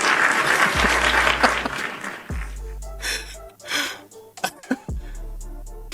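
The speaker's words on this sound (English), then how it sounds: "Clap it up for the list." Short bursts of applause-like clapping rise and fall over a few seconds, broken by gaps and a deep repeating bass tone underneath.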